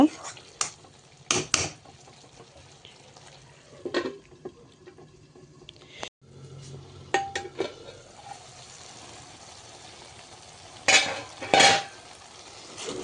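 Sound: stirring and braising fish in a pan

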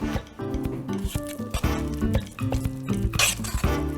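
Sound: stirring food in a pot

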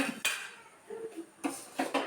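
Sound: dishes and pots clattering

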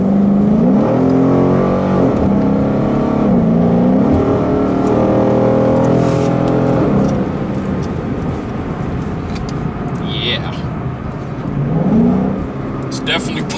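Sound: Ford Mustang engine accelerating with JLT cold air intake

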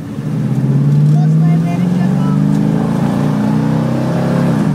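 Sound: 1966 Ford Mustang engine revving, throaty exhaust

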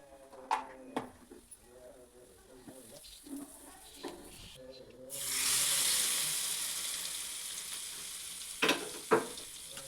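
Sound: mustard seeds and cumin frying in hot oil

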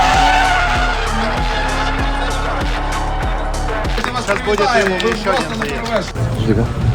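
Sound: drift cars skidding on a race track

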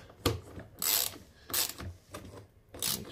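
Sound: ratchet tightening door bolt on Infiniti G37

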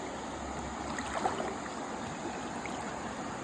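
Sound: river water at night

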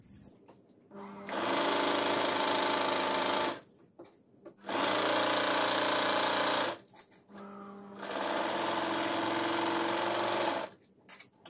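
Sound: sewing machine stitching blouse sleeve side joints

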